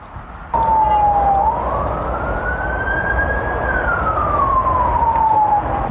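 Loud, dense traffic roars along a very busy road in southeast London as a close siren sweeps steadily up and then back down in pitch over the rumble of passing vehicles.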